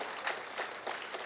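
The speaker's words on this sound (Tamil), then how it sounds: "சும்மா கொஞ்சம் தான் கைதட்டுருங்க" Light audience clapping at a Tamil comedy speech event, soft scattered applause in a few brief swells across the short stretch, fairly quiet and close.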